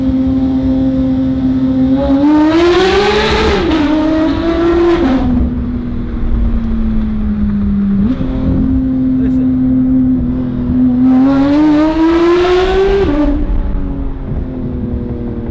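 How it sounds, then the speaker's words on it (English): Porsche 911 GT3 engine revving hard inside a small tunnel on a corner, loud and close, with two rising high-rpm pulls separated by a steadier cruising drone, echoing off the walls. "Just listen to this. Small tunnel."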